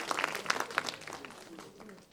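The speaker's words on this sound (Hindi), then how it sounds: "तो जोरदार तालियों के साथ सर का स्वागत किया जाए" Audience applause welcoming a guest at a youth parliament event in Udaipur: a brief burst of clapping, loudest at first, then tapering off over about two seconds, with some voices murmuring underneath.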